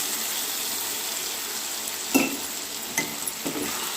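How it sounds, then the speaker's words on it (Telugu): Brinjal curry sizzles steadily in a pan as a little water is added. A constant close hiss is broken by a few sharper spits and pops near the end. "అందులో ఇప్పుడు నేను కొద్దిగా వాటర్ యాడ్ చేస్తున్నాను."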